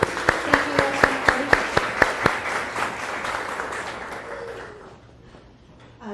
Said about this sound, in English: So let's give a little round of applause.